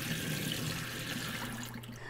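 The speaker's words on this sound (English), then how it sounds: "I'm going to go ahead and pour this water out and start from scratch. So let me pour this in the sink real quick." Water is poured out of a plant container into a sink indoors, a soft continuous splashing stream that fades toward the end, fairly quiet and without talk.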